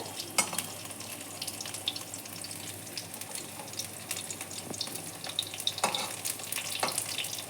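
Five small pumpkin flower fritters (bora) frying together in hot oil, a steady, moderate sizzle with a few light scrapes and clinks, close by and without speech.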